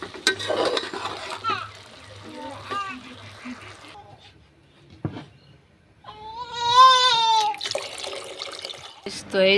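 A baby girl cries in a home kitchen, with short whimpers and then a longer wailing burst near the end, mixed with running tap water and adult talk.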